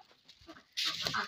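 Chickens clucking briefly in front of a traditional bread oven, fairly faint at first, then a louder rush of broadband noise over the birds near the end.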